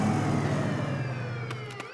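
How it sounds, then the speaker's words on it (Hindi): A loud police siren wails steadily with a vehicle engine rumble underneath, a few sharp clicks near the end, in a cartoon. "ये तो पुलिस का सायरन है"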